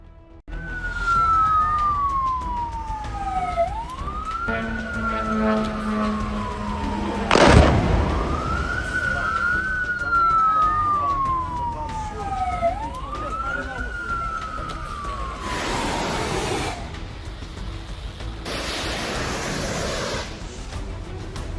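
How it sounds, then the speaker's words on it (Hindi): Alert sirens wail in repeated rising and falling cycles on the ground during an Iranian missile attack on US bases in the Middle East, loud and sustained, broken by sudden bursts of broadband noise. "जमीन पर बजते अलर्ट सायरन"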